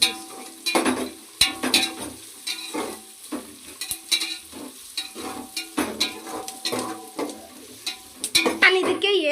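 Vegetables for restaurant-style noodles frying in a pan, a close sizzle broken up by repeated scraping and clattering strokes of a spatula as they are stirred, uneven and busy throughout, with no talking.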